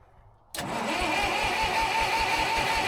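A 1970s International bulldozer engine cranks and catches after a moment of quiet, then settles into a loud, steady diesel idle with a rhythmic low pulse, close up and with no talking.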